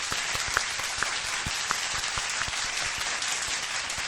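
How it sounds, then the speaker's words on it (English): Steady applause from a small group, with dense continuous clapping and a few sharper individual claps standing out throughout. "Everyone give a round of applause to JL over here."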